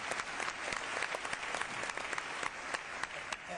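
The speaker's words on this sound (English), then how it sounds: "I think a round of applause for what you're doing here." Audience at a Democratic presidential debate in New Hampshire breaks into steady, dense applause that holds at an even level throughout, a large crowd clapping with no voices standing out.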